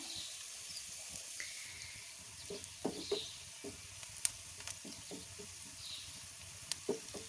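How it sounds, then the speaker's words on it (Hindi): Roughly chopped onions shallow-fry in oil in a pan with a soft, continuous sizzle, punctuated by occasional scraping and stirring clicks from a utensil, fairly quiet and close. "इसमें मैंने रफली जो प्याज है वो काट के इसको अभी हम फ्राई करेंगे"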